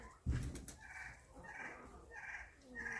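A hen with feathered, shaggy legs gives soft repeated clucks during treatment for leg mites, opening with a louder thump, then a steady, calm rhythm at close range.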